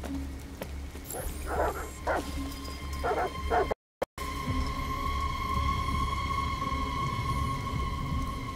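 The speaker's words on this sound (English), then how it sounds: "Goddamn dogs. What the fuck are they barking at?" Dogs bark in several sharp bursts during a scene in the video game Detroit: Become Human. A brief cut to silence follows, then a steady low ambient hum carries on.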